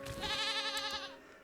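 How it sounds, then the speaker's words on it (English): A baby goat in the game Reka bleats in one sustained, wavering cry, close and clear, with a faint rustle under it. "There's a baby goat!"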